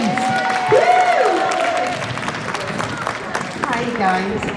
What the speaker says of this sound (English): So massive round of applause, please.